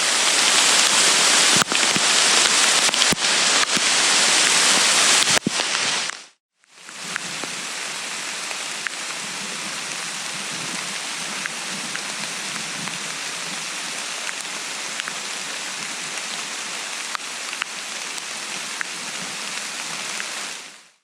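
Heavy rain pours down on a forest trail in Florida's Green Swamp, a dense, steady hiss of drops on leaves and ground that cuts out briefly near the middle and then resumes just as strongly.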